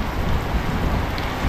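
Rain patters steadily on a countryside hut during a windy downpour, a dense, continuous hiss of drops with no gaps and no voices.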